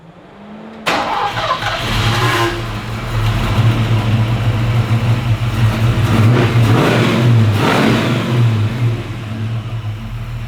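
A Sandman car engine catches on its first start after carburetor float and fuel-bowl adjustments, then runs loud and close with a low steady throb and several rising revs.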